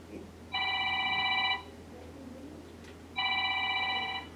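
A telephone rings twice in a meeting room during a board of health session, two long electronic trilling bursts about a second each separated by a pause, fairly close over low room hum.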